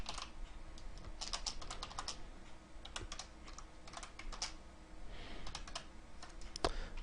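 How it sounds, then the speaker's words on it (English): Rapid, steady keystrokes on a computer keyboard while coding in Qt, close and clear with irregular bursts of clicks and no talking. "Can't type today, my keyboard's being kind of funky."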